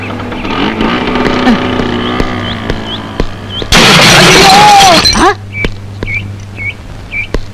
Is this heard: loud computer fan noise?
no